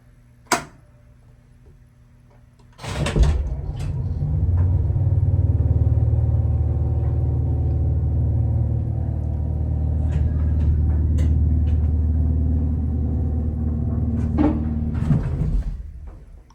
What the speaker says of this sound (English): This is definitely single speed traction elevator.